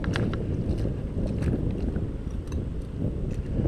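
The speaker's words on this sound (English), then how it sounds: "I hope you can hear me above the wind." Steady wind buffeting across an open beach, a continuous low roar of gusts pressing on the microphone with faint scattered higher rustles, loud and unbroken throughout.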